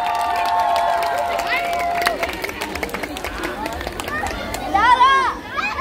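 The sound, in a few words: audience applause and cheering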